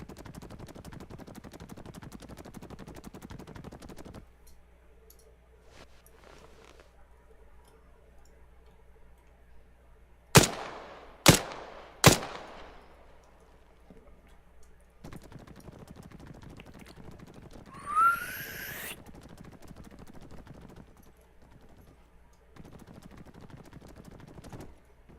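Three sharp shotgun blasts from Arma 3 with the CUP mod crack out in quick, evenly spaced succession, loud and close, followed later by a brief rising whoosh over a low background hum.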